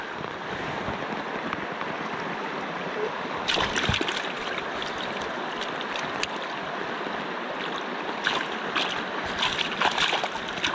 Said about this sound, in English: Dunk him in the water here.